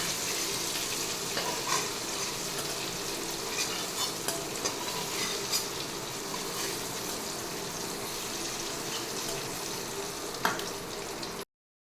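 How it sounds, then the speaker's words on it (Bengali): Shrimp frying in hot oil in a pan, a steady crackling sizzle with scattered sharp pops, moderately close and continuous, with occasional stirring scrapes and no talking. "চিংড়ি মাছটা ভাজা হয়ে গেছে"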